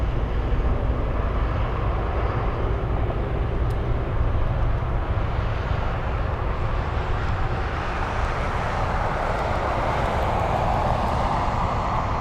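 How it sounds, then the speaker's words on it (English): Jet airplanes take off back-to-back at Anchorage airport, a loud continuous engine roar that holds steady and then swells in a broader rushing rumble, with no voices over it. "Love the back-to-back takeoffs."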